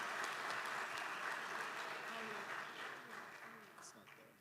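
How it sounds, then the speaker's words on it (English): An audience at a university competition event applauds the contestants, a steady wash of clapping that gradually fades, with a voice speaking over it. "Let's give a big round of applause to all of our contestants"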